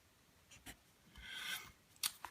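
A TWSBI Diamond Mini fountain pen with a medium nib scratches across paper in short strokes, a faint rasping glide rising and falling for a few seconds, with brief louder ticks at the start and end.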